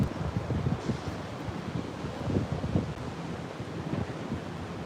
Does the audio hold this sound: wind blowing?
yes